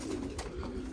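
Pigeons give a short, close, low cooing phrase, one soft continuous burble over a busy background.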